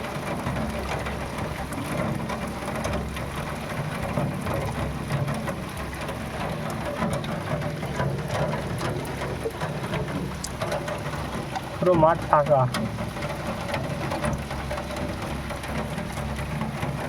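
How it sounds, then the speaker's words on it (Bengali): Rain falls steadily with water running off, mixed with runoff from a water pump, a soft continuous hiss through the whole stretch, while a person speaks briefly partway through. "ওই দেখো বৃষ্টির জল গড়ছে কীভাবে"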